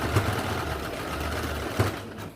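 A sewing machine stitches piping onto a blouse, running as a continuous rapid mechanical hum with faint knocks at the start and near the end, close and alone.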